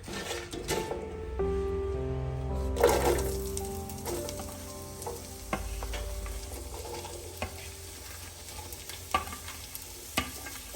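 Finely chopped capsicum and a medium onion sauté in a pan, hitting the oil with a loud sizzle that settles into steady frying with occasional stirring clinks and scrapes, and no one talking.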